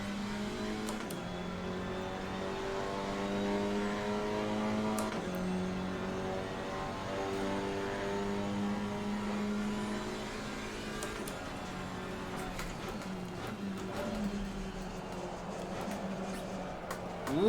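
An Alpine A110 GT4 race car's engine sounds during a flying lap of the Paul Ricard circuit in Assetto Corsa Competizione. The steady, moderately quiet drone climbs and falls through gear changes, with no voices over it.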